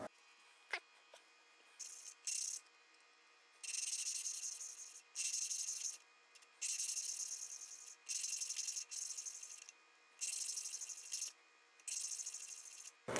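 Valve lapping with compound on a 1974 Honda CB350F engine: repeated bursts of gritty rubbing and scraping, each lasting about a second with brief pauses between, close and fairly faint with no talk.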